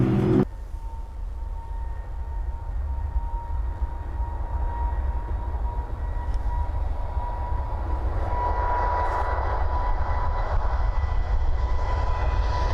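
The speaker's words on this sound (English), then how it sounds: "Flight is taking off now." Heard from inside the cabin, a Qatar passenger plane takes off with a steady, loud engine roar and broadband rumble that builds slightly over several seconds.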